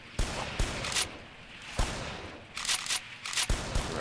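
Insurgents attack with gunfire in the video game Hold Your Own: sharp, separate shots crack out in an irregular volley, some in quick pairs and clusters, loud and close, with no one talking.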